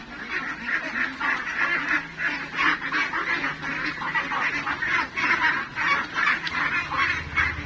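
A flock of ducks quacks and honks steadily and loudly while being penned, in a dense, continuous chorus of overlapping calls.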